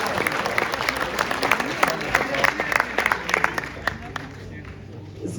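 Audience applause at a 2023 volunteer gala honoring Polish Red Cross volunteers, lively rhythmic clapping from a sizable crowd in a hall, loud and steady for several seconds with some crowd murmur beneath.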